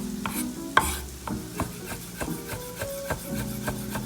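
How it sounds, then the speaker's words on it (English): A sharp knife run across fresh herbs on a cutting board gives repeated soft scraping, rubbing strokes with occasional light taps, close and fairly quiet, with no talk over it. "So just make sure you have a sharp knife and just run it across."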